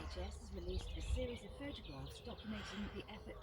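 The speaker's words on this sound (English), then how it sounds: "And bloody noisy crows." Crows calling outdoors in a quiet valley at breakfast time, a series of harsh caws repeating at middle distance over steady low background rumble.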